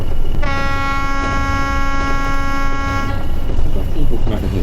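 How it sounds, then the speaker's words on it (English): A train horn in the Train Sim World 5 simulator on the Blackpool branch line, a single loud, steady, chord-like blast lasting about three seconds over constant engine and rail rumble. "People can never hear these train horns outside"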